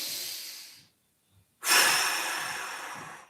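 Two big, deep breaths taken during a mobility exercise, a long airy exhale, a brief silent pause, then a strong inhale close to the microphone.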